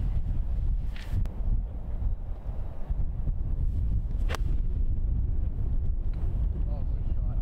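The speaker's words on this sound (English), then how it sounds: "It was because the wind was taking it away." Wind blows across a golf course on a cold, windy day, buffeting the microphone with a steady low rumble throughout, and faint voices are heard beneath it.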